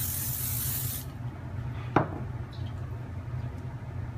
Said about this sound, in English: I'll just lightly spray it with some cooking oil.